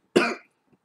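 A single short, sharp cough from a man, close and loud, fading quickly into silence with a faint trailing sound afterward.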